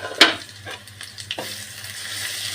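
Dry red chilli and coriander powder frying in a pan for a fish and ash gourd curry, giving a constant close hiss with a sharp spoon knock near the start and a few fainter scrapes after it.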